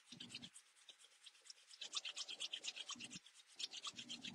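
Two hands rubbing lightly together during a guided meditation, a soft, faint, rhythmic brushing swish repeating in steady strokes, alone and quiet.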